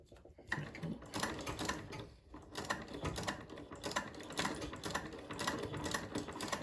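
An old foot-powered treadle sewing machine with no electricity stitches in quick, evenly spaced mechanical clatters, close and moderately loud, with a few brief pauses and no voices over it.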